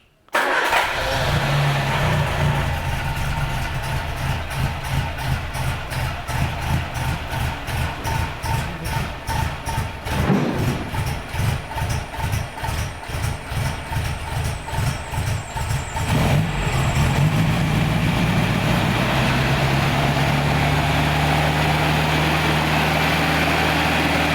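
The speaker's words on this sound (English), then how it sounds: "we'll turn the ignition on" An old MGA car engine, choked, cranks and catches, then settles into a loud, rhythmic chugging idle that rises to a steadier rumble near the end.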